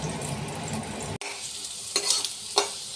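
Pumpkin pieces coated in turmeric and salt fry in hot oil, giving a steady sizzle that cuts out abruptly, followed by a quieter crackle with a few sharp scraping stirs.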